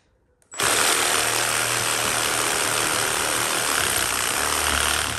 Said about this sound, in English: I'm gonna take a sawzall and just kind of cut that really quick.